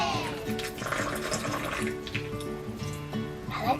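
Water pouring into a container of magic snow powder, a steady splashing, trickling stream heard close up, with faint voices in the background.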